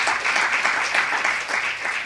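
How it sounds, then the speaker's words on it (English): Audience applause at a food policy summit in Washington, DC, dense steady clapping close and loud across the whole moment, with no talk over it. "Yes, it deserves a round of applause."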